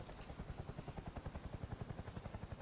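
Helicopter engine in the video game BRM5, a steady rotor chop with regular rapid thumping beats over a continuous turbine drone, alone without talk.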